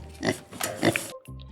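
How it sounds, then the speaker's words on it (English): A pig oinks and grunts in a rapid series of close, loud snorts, with a brief pause before a final grunt. "Now, let's say hi to Porky the Pig."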